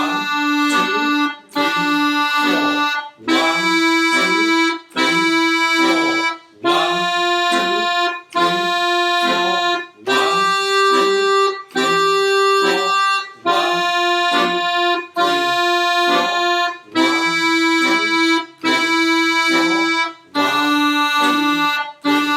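An accordion plays a simple beginner exercise of repeated, sustained chord-like notes in a steady counted rhythm, each note separated by a brief gap, close and clear with no talking.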